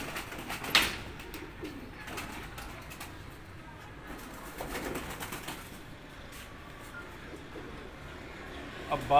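Pigeons in a fancier's loft coo faintly and intermittently amid soft background noise, with a couple of sharp clicks and occasional rustling.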